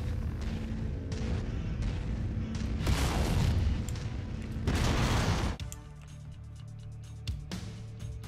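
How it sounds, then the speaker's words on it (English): Dense, rumbling bursts of rapid weapon fire and heavy booms in the MechWarrior 5 mech combat game, loud and sustained, then dropping to lighter scattered shots and mechanical hum. "Celebratory gunfire."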